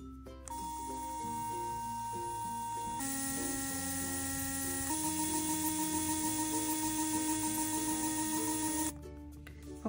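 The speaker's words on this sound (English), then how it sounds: "So then that is the electric toothbrush" A Moon x Hello Kitty electric toothbrush buzzing with a steady, close motor whine that shifts pitch a few times across different modes before stopping, heard alone.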